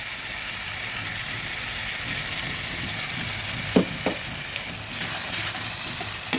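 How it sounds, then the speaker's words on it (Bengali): Sesame-mustard paste frying in a pan gives a steady, close sizzle throughout, broken by a couple of sharp stirring knocks partway in. "এবার তিল সর্ষে পেস্টটা দিয়ে দিচ্ছি"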